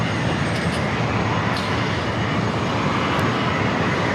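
Jet airliner at San Diego's Lindbergh Field airport, a loud steady engine roar sustained throughout with broadband rumble and no talk.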